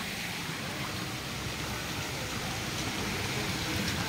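Steady rain pours continuously during flooding, a dense even hiss of falling water with no breaks and no voices.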